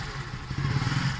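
A motorcycle running on an ecological alternative fuel idles steadily up close, a continuous low rumble that grows slightly fuller partway through, with light mechanical clatter.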